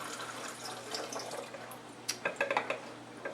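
Water poured in two-cup amounts into a homemade CO2 injector's reaction chamber, giving a soft steady splashing wash that breaks into a few brighter gurgles and splashes near the end, close and fairly quiet.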